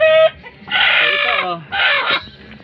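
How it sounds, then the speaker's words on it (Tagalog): Broody Rhode Island Red hens cluck and squawk loudly up close in two or three noisy bursts, with short pauses between the harsh cries. "maingay yung mga manok natin na naglimlim"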